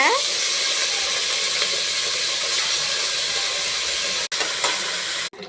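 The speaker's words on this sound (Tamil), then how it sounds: "கடுகு இப்போ பொரிஞ்சிட்டு இருக்குது." Steady, dense sizzling and crackling of mustard seeds popping in hot oil, loud and close, with a couple of brief dropouts near the end.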